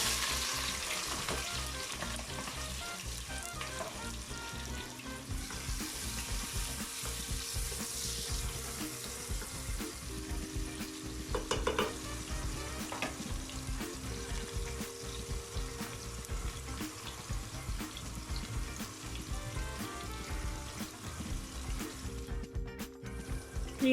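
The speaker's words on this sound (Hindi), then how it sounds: "हमारा ऑयल गरम हो चुका है, अभी मैं इसमें ऑनियन डाल देती हूँ" Onions fry in hot oil in a home kitchen pot for bary paye, giving a continuous soft sizzle with occasional stirring clinks, steady and moderately quiet throughout, no voices.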